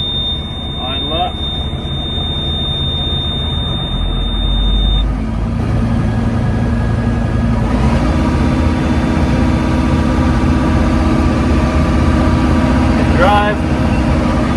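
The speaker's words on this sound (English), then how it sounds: "Okay, PTO on. PTO is turning." Tractor engine idling with the PTO engaged and turning, a loud steady low rumble that shifts in tone partway through, with no one talking over it.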